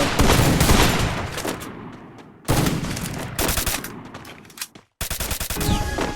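An SKS rifle fires in a shooting video game, loud close bursts of shots in several volleys separated by brief silences, with no talking.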